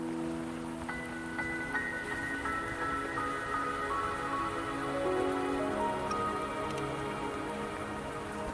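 Steady rain falls in the video game Wuthering Waves on Mt. Firmament, a soft continuous patter running beneath gentle sustained musical tones for the whole stretch.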